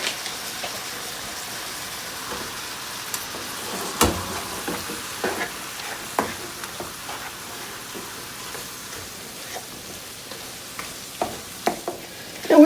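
Taco meat with seasoning mix browning in a frying pan, a steady soft sizzle with scattered crackles and occasional stirring scrapes, close and fairly quiet with no talking.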